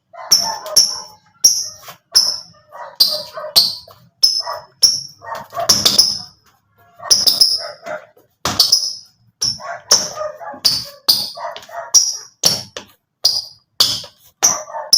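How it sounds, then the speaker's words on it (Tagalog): Repeated sharp barks from a dog, fairly close and loud, coming in irregular bursts throughout with brief pauses between them. "Dinig nyo naman siguro yung aso dyan, kahol ng kahol."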